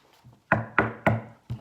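Four firm knocks on wood, close and sharp, the first three in quick succession and the fourth after a short gap, preceded by a couple of faint taps and no talk.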